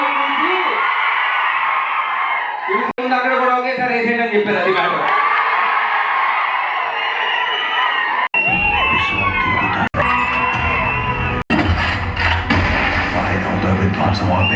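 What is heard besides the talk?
crowd shouting and cheering at a movie trailer launch event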